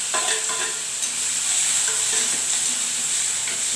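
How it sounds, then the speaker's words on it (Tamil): Onion, tomato and chili sautéing in a pan for a lunch dish, a steady broadband sizzle with occasional scraping stir sounds, close and continuous with no talking. "இது நல்லா வதங்கட்டும்."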